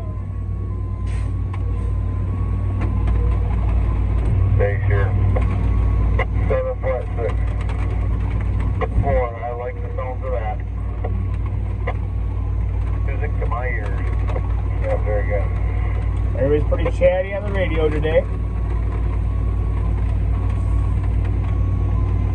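A concrete mixer truck's diesel engine idles and churns steadily, loud and close, during a parking lot pad pour in town, with people talking over it throughout.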